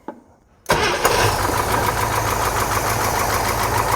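An eight-cylinder engine, just repaired after a pushrod fix, is cranked after a short faint lead-in, catches suddenly and settles into a loud, steady, even idle close by.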